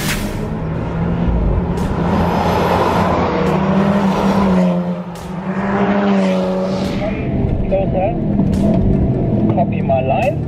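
A manual VW Golf R with performance pack, big brakes, Michelin Sport Cup 2 tyres and Akrapovič exhaust, driven hard on a race circuit in Majorca; steady loud engine drone with gear changes throughout, close inside the car, while people talk over it.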